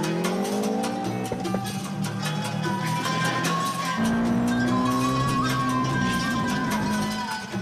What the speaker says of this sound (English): 340 brake horsepower Subaru rally car.